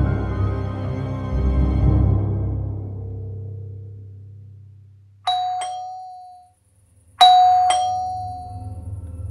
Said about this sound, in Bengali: কলিং বেল বাজছে